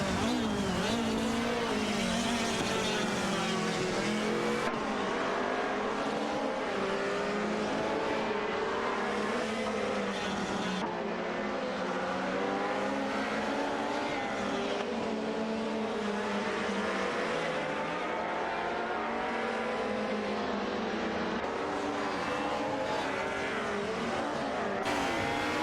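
An Opel Calibra DTM and an Alfa Romeo 155 race in a video game, engines roaring continuously with rising and falling pitch as gears shift, loud and sustained throughout.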